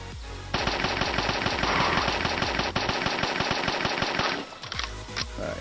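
Rapid automatic gunfire from a weapon in the zombie shooter mobile game Dead Plague: Zombie Outbreak, a loud, dense burst of shots lasting about four seconds, followed by a few scattered clicks.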